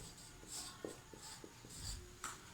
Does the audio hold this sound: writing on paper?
yes